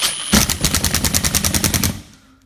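A Milwaukee M18 FUEL ONE-KEY impact driver set to self-tapping mode hammers in a rapid, even burst of about a dozen loud impacts after a brief whir, then winds down and stops.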